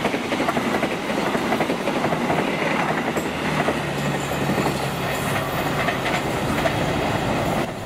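An empty chartered KLB passenger train rolls steadily toward Jakarta Kota, its wheels clattering in a continuous rhythmic clickety-clack with a faint undertone of engine rumble, loud and close throughout with no voices.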